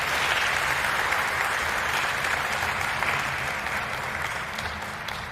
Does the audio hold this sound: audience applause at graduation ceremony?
yes